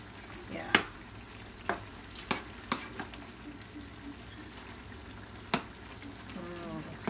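Jamaican-style curry chicken cooks in a pot with a soft, steady sizzle. A few sharp clicks or taps of a utensil against the pot come through, all at low level with no talk.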